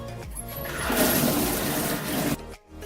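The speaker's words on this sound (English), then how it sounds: "I'm gonna rinse this out with cold water first." Cold water runs steadily from a tap as a polyester chair cover is rinsed, a continuous rushing splash that swells in the middle and then cuts off near the end.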